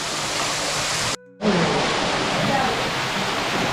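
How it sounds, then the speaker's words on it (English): A small waterfall in a cave garden in Meghalaya pours as a steady, broad rush of water, close and full. The sound cuts out briefly for a moment midway, then carries on unchanged. "this is the waterfall over here."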